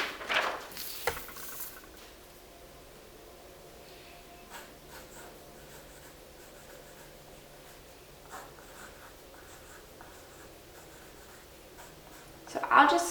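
A pencil or pen writing on paper, heard as faint, quiet scratching strokes in a calm room, with a few louder handling noises at the start and end.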